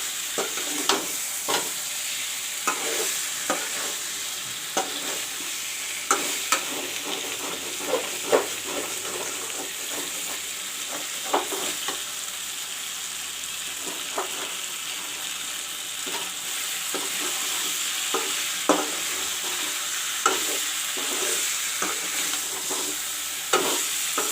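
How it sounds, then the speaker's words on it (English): Steady sizzling of masala frying in a hot pan with drumstick and potato for a curry, with occasional clinks and scrapes of stirring throughout, no talking. "the masala is frying with the drumstick and potato"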